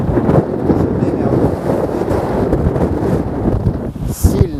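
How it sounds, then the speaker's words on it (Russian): Strong gusting wind buffets the microphone continuously while cycling outdoors, a loud rumbling roar with fluctuating intensity throughout. "ветер сильный. Прям вообще напрягает конкретно."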